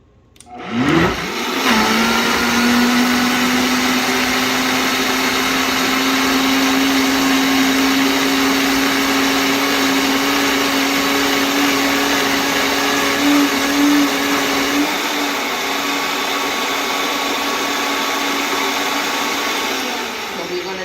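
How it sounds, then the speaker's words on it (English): A blender whirs loudly and steadily through vegan pumpkin pie filling, starting abruptly with a rising spin-up and then holding a constant close motor drone and whine before easing off near the end. "Okay, so we are going to blend some more."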